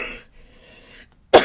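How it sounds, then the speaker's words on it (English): A person indoors at a mixed media craft desk draws a quick breath, then lets out a single sharp, loud cough near the microphone at the end. "I inhaled very sharply and made myself cough."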